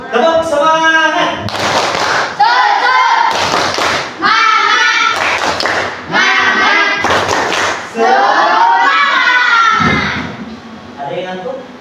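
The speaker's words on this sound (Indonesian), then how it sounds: "Tepuk semangat." A group of students in an Indonesian classroom does tepuk semangat, a rhythmic spirit clap. Sharp claps in set patterns alternate with loud chanted words, and bursts of clapping fall between the voices.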